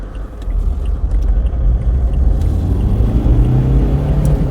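A Citroen Berlingo engine revs hard and loud, a steady low rumble building as the car accelerates, with no voices over it.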